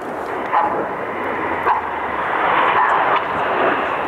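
Red Arrows display jets flying a manoeuvre in formation at an airshow. A broad, steady jet roar dominates throughout, with a crowd murmur and faint voices underneath.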